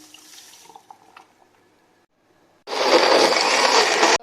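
Water poured into homemade peach juice with ice, salt and sugar: a steady, loud splashing pour that starts abruptly after soft kitchen clinks and drips and runs continuously to the end.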